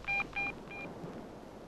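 A telephone is dialed, giving three short, distinct touch-tone beeps in quick succession in a quiet room, followed by a faint background hush.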